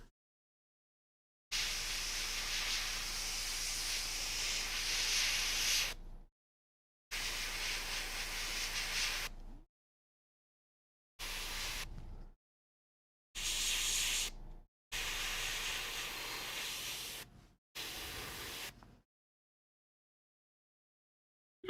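An airbrush or spray can hisses in short bursts as paint goes onto a miniature warrior figure, six separate sprays of a few seconds each with silent gaps between them, quiet and close.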